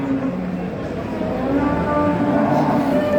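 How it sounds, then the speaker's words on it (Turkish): Cattle moo at a busy livestock market in Çorum, with several low drawn-out calls overlapping in a loud, dense crowd of animals and noise. "Şu tarafta inek çok. İneklerin olduğu tarafa geçelim."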